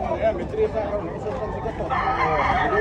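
Gamefowl roosters at a poultry expo in Cebu, with crowing and clucking close by in a noisy hall while someone talks over the birds.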